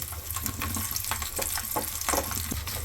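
Tempering spices sizzling in hot oil for a dry prawn curry: a steady close crackle and hiss with brief popping bursts.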